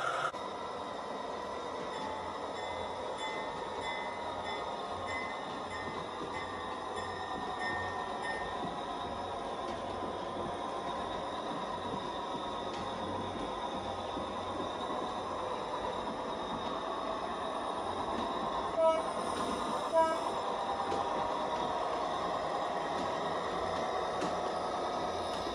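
A PIKO GE 25 ton model locomotive with onboard sound runs along a garden layout, giving a steady continuous rumble with faint mechanical clicking, plus a couple of brief sharp clicks late on.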